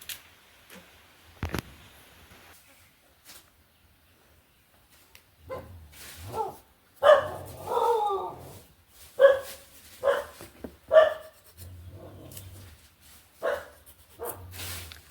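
A dog barks several times in short bursts, fairly close, after a quiet stretch with a faint low hum.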